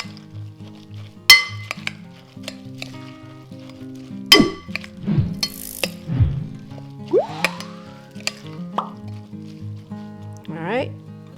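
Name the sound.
stirring ground turkey meatball mixture in a bowl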